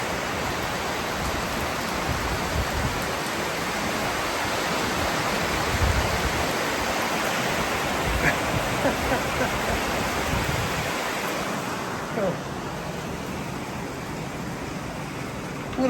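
Heavy rain pours down on a flooded street in the Philippines, a dense, steady roar close by that holds at an even loudness without pause from start to finish.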